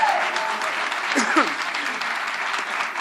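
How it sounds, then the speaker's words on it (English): Audience applause at a minimum wage announcement event hosted at a YMCA, steady loud clapping throughout with a voice heard briefly over it. "Let's give them a round of applause."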